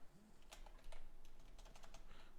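Quiet typing of code on a computer keyboard, a quick irregular run of light key clicks with brief pauses, close and faint without talk.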